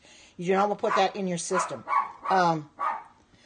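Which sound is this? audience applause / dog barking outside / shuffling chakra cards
dog barking outside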